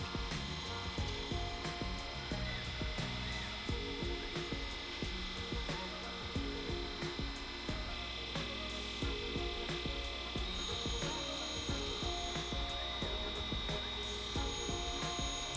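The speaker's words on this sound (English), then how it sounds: "Unfortunately, this grinder doesn't have coolant" A surface grinder fitted with a 46 grit wheel grinds steadily without coolant, giving a continuous gritty, buzzing whine with clicking mechanical rattles throughout, loud and close, with no talk.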